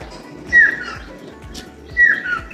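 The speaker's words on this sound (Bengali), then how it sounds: "এটা কী পাখি ডাকছে জানি না" On a rainy-season morning outdoors, a bird repeats a clear call twice with a short pause between, fairly close. Low rhythmic thumps and faint background noise run underneath.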